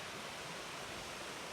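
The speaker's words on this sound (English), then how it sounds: "There looks to be a little bit of a waterfall over here" A small waterfall beside a mountain hiking trail at Lake O'Hara gives a steady, faint, even rush of falling water with no other sounds.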